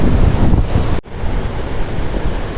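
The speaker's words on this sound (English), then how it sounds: "here is downstream of the waterfall" Rushing water downstream of a waterfall on a hot-weather mountain trip, a loud steady roar of churning spray close by with a brief dip partway through.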